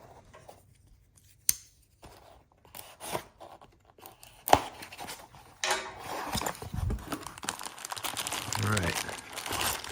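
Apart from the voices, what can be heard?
unboxing a Shell air angle die grinder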